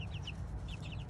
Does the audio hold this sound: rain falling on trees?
no